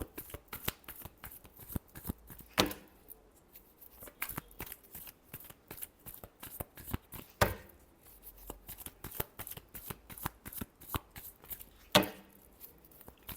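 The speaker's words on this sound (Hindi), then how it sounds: "Last shuffle." Tarot cards are shuffled close by in quick, soft riffles and slaps, repeating in bursts with a few sharper snaps between brief pauses, quiet and without speech.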